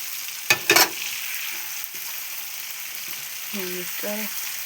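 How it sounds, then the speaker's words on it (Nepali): Chicken already fried being stirred and cooked in masala for a spicy homemade chicken pickle, with a couple of short loud bursts of sizzling and stirring early on over a steady low frying hiss. "चिकन हालेर चाहिँ मजाले चलाउनुपर्छ। एकछिन मसलामा पकाउनुपर्छ।"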